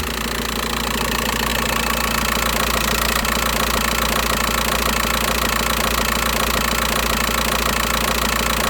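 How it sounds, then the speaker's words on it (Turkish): A VW T5 van's 1.9 TDI diesel engine idles steadily with a close, constant knocking rumble while the power-steering wheel is turned lock to lock to bleed air from the hydraulic system; no one speaks. "Şimdi aracı çalıştırıp direksiyonu tam sağ ve tam sol yaparak sistemdeki havayı almamız lazım."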